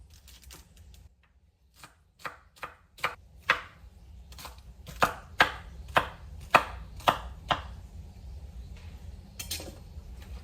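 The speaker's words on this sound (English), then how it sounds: "So we're just going to do a rough chop with the celery." A knife roughly chopping celery on a board, with around a dozen sharp, distinct cuts coming in irregular bursts; it is near and clear over a low background hum, and no one speaks.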